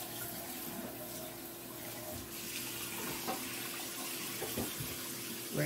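Water runs steadily from a kitchen tap while items are rinsed out during blackberry vinegar making, a constant close hiss with occasional clinks and splashes, and no one speaking.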